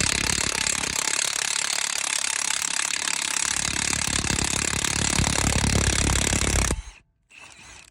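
A Milwaukee M18 half-inch impact gun on a 3.0 battery hammers loudly and continuously at a truck lug nut torqued to spec for about seven seconds, then stops abruptly, followed by a brief short burst.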